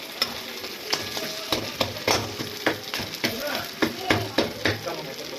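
Katla fish heads sizzling in a pan for mung dal, a steady fry hiss broken by regular sharp spatters and pops, close and loud, with no talking.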